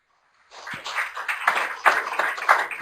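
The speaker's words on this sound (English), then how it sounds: "That was a round of applause from the room here in Wellington." A room of people in Wellington breaks into a round of applause after a brief silence, many hands clapping in a dense, steady patter that holds fairly loud to the end.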